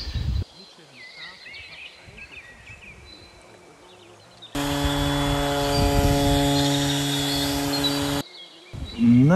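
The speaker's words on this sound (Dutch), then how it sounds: "het schuren zit erop" Power sander working an oak dining table with grit-40 paper, a loud steady motor whine running for several seconds alone, after quieter outdoor background with birds, then cutting off abruptly.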